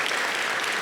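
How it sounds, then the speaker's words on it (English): An audience at the CrikeyCon 2022 security conference claps for a speaker, a brief, loud, steady burst of applause with no voices over it. "can I please get another round of applause for Kristine"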